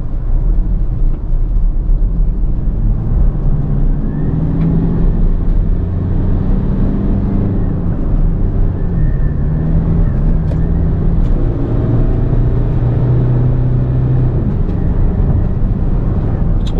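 Steady, loud engine and road drone from inside a Toyota Hilux Revo 3.0 while driving, a continuous low rumble with shifting tones as speed changes, without a break from start to finish.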